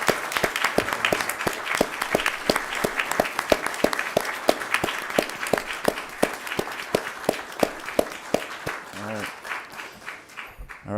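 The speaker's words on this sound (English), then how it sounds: "can we give all the boxers here a round of applause?" Council meeting audience applauding a group of boxers, a steady dense clapping crowd sustained for about ten seconds, with a few voices under it before it thins out at the end.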